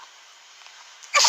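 After a moment of faint hiss, a single short, sharp sneeze bursts out close and loud at the very end.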